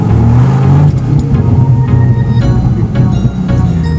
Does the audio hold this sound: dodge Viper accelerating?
yes